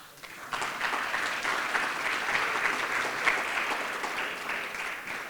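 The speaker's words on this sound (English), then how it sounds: "So I just want to give you guys a round of applause" An audience at a groundbreaking for the Residences at Marina Village gives a round of applause, steady and fairly close, starting abruptly and holding even for several seconds.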